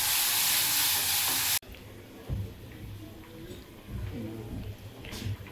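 Ground masala paste hits a hot pan for a prawn curry, a loud bright sizzle at first that cuts off abruptly, followed by softer frying and stirring with occasional clatter, a voice talking faintly nearby.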